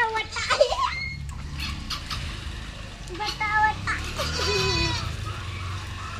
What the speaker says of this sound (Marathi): आणि तर शेळीला साबण लावून धुण्याचं काम चाललेलं आहे.